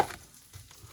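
Leeks sizzle softly in a pot on a small stove burner while a Polish ham and cabbage chowder is being cooked, giving a brief, faint, steady frying hiss.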